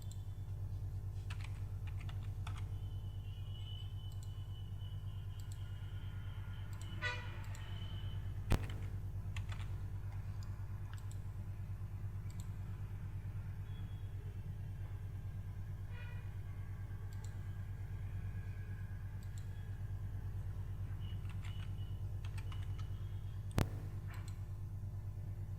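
Computer keyboard keys tapped while a username and password are entered, faint scattered clicks spread over a long stretch above a steady low hum.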